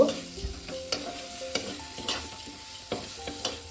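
Shrimp frying and being stirred in a pan for a fig and shrimp curry, giving a steady close sizzle broken by repeated scraping and knocking strokes of the spatula at uneven intervals, with no voices.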